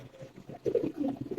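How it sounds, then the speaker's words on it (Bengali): Fancy pigeons of breeds such as Army, Silver and Pankhi cooing in a loft collection, with soft, close, low throaty coos overlapping in a brief quiet burst. "কবুতর অনেক তো, এই যে দেখেন।"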